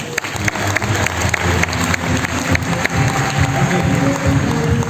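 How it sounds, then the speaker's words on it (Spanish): A crowd breaks into loud, continuous applause, many hands clapping at once close by with a steady roar that carries on for several seconds. "Un fuerte aplauso para ustedes"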